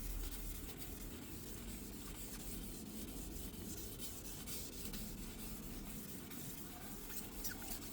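Hand sanding and polishing scratches out of a surface, producing a soft, continuous rubbing rasp with steady back-and-forth friction, quiet and close, with no talking.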